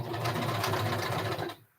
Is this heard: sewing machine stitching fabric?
yes